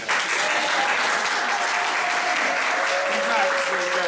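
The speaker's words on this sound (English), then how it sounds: "The applause cue." Sustained audience applause during a stage magic act at a family reunion, a full room of people clapping steadily at an even volume, with some voices underneath.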